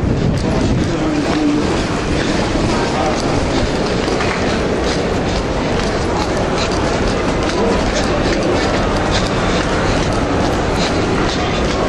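A train rolls through London Euston railway station, its wheels clattering and rumbling continuously with faint squeals, loud and close, while voices talk under the noise.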